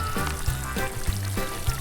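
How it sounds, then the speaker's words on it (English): Water is poured into a planting hole dug for tomato seedlings, making short splashing gurgles that come in several quick bursts close to the microphone. "You're going to fill this hole up with water."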